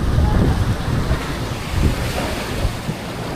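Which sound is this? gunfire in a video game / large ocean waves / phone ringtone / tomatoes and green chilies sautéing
large ocean waves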